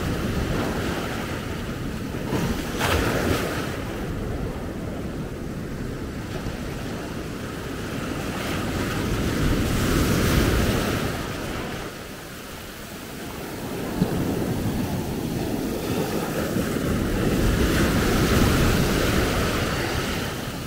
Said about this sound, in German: wenn da eine Welle kommt und dagegen klatscht